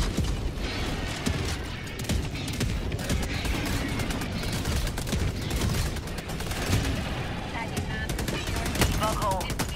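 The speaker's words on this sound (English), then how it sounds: "Machine gun sentry on its way." A machine gun sentry in the Helldivers 2 video game fires dense, rapid bursts amid a loud, chaotic battle din, with sharp cracks and booms layered over a steady roar for the full ten seconds, and faint voices mixed in.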